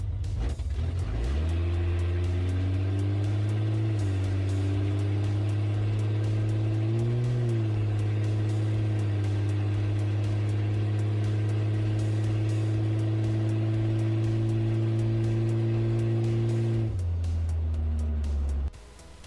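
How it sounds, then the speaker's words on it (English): A 1971 Plymouth Duster with a 225 slant six engine accelerates hard from a stop, a loud, steady mid-pitched engine drone rising through the gears for about fifteen seconds before easing off near the end. "This run is the 1971 Plymouth Duster with the 225 Slant or Inline 6."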